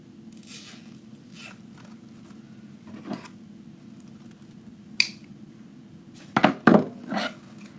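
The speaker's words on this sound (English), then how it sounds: "I'm going to tie this into the corner with my zip tie." A plastic zip tie is pulled tight on a poof Christmas tree craft. Several quick, rasping ratchet bursts come close and clear near the end, after a few faint taps and rustles.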